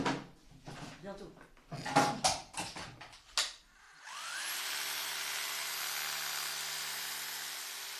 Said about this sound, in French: Tu sais percer les murs tout seul, Isaiah ?